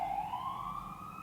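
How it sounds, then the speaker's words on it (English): An ambulance siren passing outside with a steady wail that slides slowly upward, heard faintly indoors at an even moderate level with no talk during it. "Is the ambulance serious right now?"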